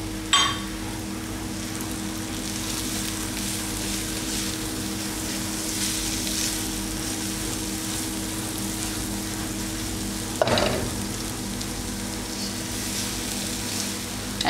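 Curry spice mix for aubergine and potato masala sizzling and frying in a wok, a steady broadband hiss throughout with a sharper scrape or stir near the start and another around the ten-second mark.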